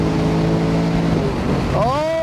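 A 2024 Ford Mustang with a naturally aspirated V8 accelerating hard on the road, engine roaring steadily and then rising sharply in pitch near the end, loud and close.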